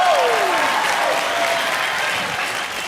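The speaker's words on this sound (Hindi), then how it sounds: "अर्जुन के लिए जोरदार तालियां हो जाए।" A studio audience applauds on a comedy talk show, a loud, dense burst of clapping that holds steady and slowly tapers over three seconds.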